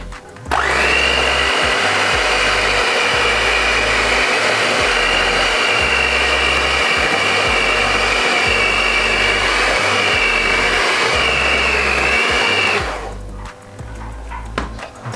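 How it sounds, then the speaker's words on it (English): An electric whisk churning cake batter, a loud and steady high whir that runs for about twelve seconds before cutting off, with no talk over it. "Then you can start whisking."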